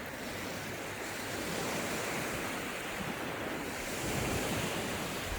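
Ocean surf rolls steadily onto a sunny late-summer beach, a constant broadband wash with wind buffeting the microphone and no voices.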